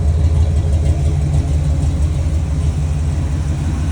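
Ford F150 truck engine idling on a used-parts homemade driveline, a steady, loud low rumble that runs unbroken throughout with no voices.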